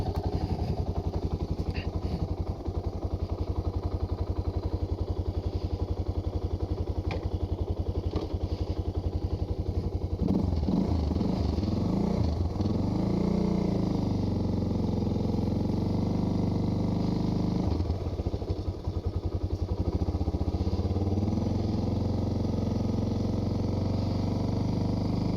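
A 2022 Suzuki DR650 dual-sport motorcycle rides out of a Florida campground among pines and live oaks, its single-cylinder engine thumping steadily at close range throughout and rising in revs briefly midway, with no talk.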